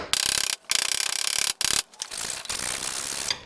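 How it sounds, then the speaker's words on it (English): Hand file scraping rust inside a hole on a Ford Escape during suspension and brake work, loud close rasping strokes in quick bursts with short pauses between them, no voice. "Little file action."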